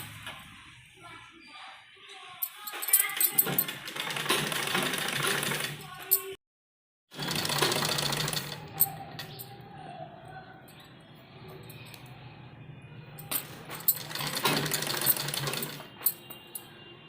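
A sewing machine stitches a trouser strip, running in loud whirring bursts that stop briefly in silence and resume, with fainter stretches between runs.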